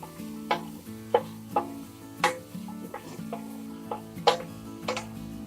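Spoon stirring carrots, beans and green peas sautéing over a low flame, with about ten separate scraping strokes against the pan at a steady pace, soft and close, over a faint sizzle and low background hum.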